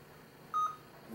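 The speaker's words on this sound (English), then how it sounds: "Okay, there was the beep." A Lenovo X200t tablet PC gives a single short, clear electronic beep as it goes to sleep, standing alone over a faint steady background hiss.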